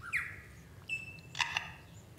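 A lyrebird in the forest mimics a camera shutter: a few short whistled chirps, then a couple of quick, clicky mechanical bursts, close and clear with no other sounds.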